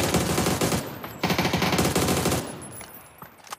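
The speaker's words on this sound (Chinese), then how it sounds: "原来 BSH 听到前点枪声还没出手" Rapid automatic gunfire in a PUBG match, loud bursts of machine-gun shots in quick succession for over two seconds, then fading to scattered fainter shots.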